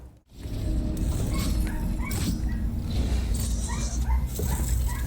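A dog in the room yips, barks and whimpers in short bursts, heard over continuous background game noise.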